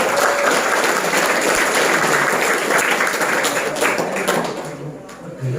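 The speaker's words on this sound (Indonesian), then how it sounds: "Nah, tepuk tangan berkali ya." Children at an Islamic religious lesson clapping their hands together, a steady dense patter of many small hands held for several seconds before easing slightly, with a faint voice mixed in.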